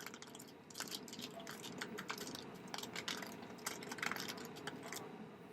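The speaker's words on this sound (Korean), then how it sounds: "집에서 녹음한 물티슈 비닐 사운드입니다." Close, continuous crinkling of a thin plastic wet wipe packet, crisp rustles and crackles scrunched in hand without pause, recorded at home.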